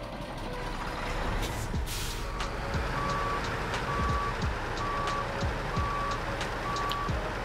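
Paystar truck in SnowRunner idling and moving, a low diesel rumble with air brake hisses and a steady series of reversing beeps repeating at regular intervals.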